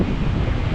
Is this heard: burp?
no